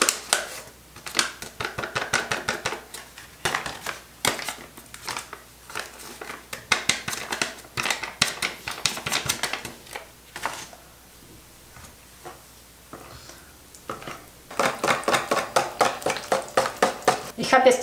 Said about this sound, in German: Jetzt tue ich den Pudding rein und tue das alles richtig schön mischen